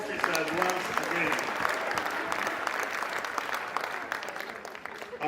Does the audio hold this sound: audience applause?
yes